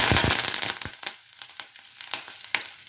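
Mustard seeds and black urad dal frying in hot oil for a tempering, a dense crackling sizzle that starts loud and settles into scattered pops and spits, close up with no talk.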